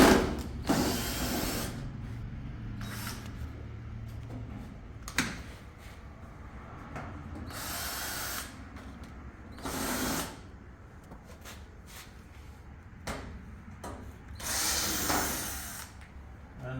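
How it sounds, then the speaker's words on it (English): A power screwdriver backs screws out of an Ariston tumble dryer casing whose drum is not turning, with short bursts of whirring drive separated by clicks, handling noises and pauses, fairly close and with no talk. "we will remove here all the screws"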